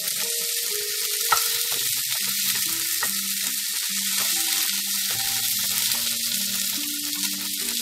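Okra and garlic stir-frying over high heat in a pan, a steady, bright sizzle running continuously throughout at close range, with a faint background tune underneath and no talking.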